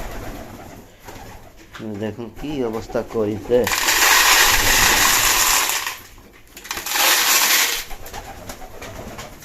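Hungry racing pigeons in a loft coo in rapid, close, repeated calls, then loud bursts of flapping or rushing noise follow. Someone speaks briefly over the birds.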